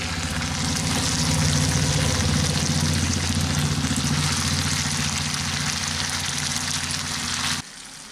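Soaked red lentils hit a pan of frying onion, ginger and garlic, giving a loud, steady sizzle with a low bubbling hum that runs nearly the whole time, then drops off abruptly near the end.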